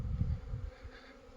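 Honeybees fly in and out of a hive entrance in December, a soft, close buzzing that swells at the start and then settles into a fainter, steady hum.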